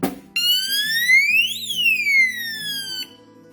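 A loud electronic alarm on a Sunil ES-100 safe wails, its shrill tone sweeping upward and then back down, sounding continuously for nearly three seconds before cutting off.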